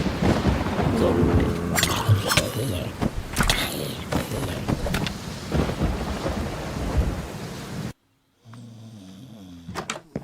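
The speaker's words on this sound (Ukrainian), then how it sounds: "Дощ." Rain and rumbling thunder fill an animated stickman cartoon for about eight seconds, with loud bursts over a steady hiss, then stop abruptly before a short quieter tail.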